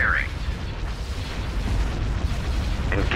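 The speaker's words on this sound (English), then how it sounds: "Ion cannon firing." Ion cannon fire in the space strategy game Star Wars Thrawn's Revenge, a sustained dense rumbling boom of heavy weapon discharge with low crackle, under brief unit voice chirps.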